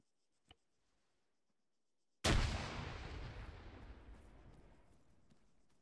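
A grenade detonates in a military simulation game: a small click early, then a sudden loud blast that rolls out into a long fading rumble over several seconds.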